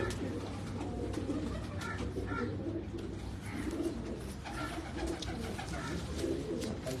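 Pigeons on a Karachi rooftop coo softly in a soft, repeated rhythm, with several low, rounded calls spaced across a quiet outdoor background.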